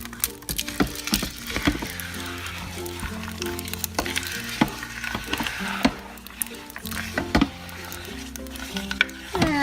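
Easter candies are stirred into a melted mixture in a crockpot, with repeated scraping and knocking of a spoon against the pot in a steady, close, uneven rhythm.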